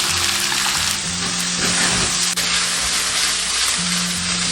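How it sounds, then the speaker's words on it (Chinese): Beef with garlic, ginger, water bamboo and green and red peppers is stir-fried over high heat in a wok, producing a loud, continuous close sizzle with occasional stirring scrapes. "大火翻炒30秒"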